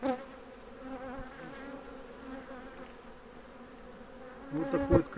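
A Cordovan honey bee colony buzzes steadily and densely throughout, a continuous close hum that swells louder near the end.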